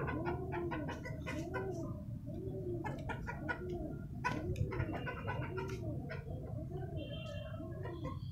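Chickens and a rooster being let out of their coop, with a steady run of clucks and repeated cooing calls over constant close, busy background noise.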